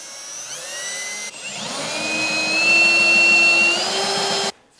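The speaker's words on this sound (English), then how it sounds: "I drill a pilot hole also" A power drill whines steadily for a few seconds while drilling a pilot hole in a Mitsubishi 3000GT Spyder under repair, its pitch rising slightly under load, then cuts off abruptly.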